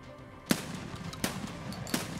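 Three spaced gunshots in Escape from Tarkov, each a sharp crack roughly three quarters of a second apart, over a steady low ambient background with no talk.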